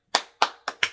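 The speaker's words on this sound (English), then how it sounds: "Clap your hands, clap your hands" Four sharp hand claps in a steady rhythm, close and loud, with short gaps between them and no talk.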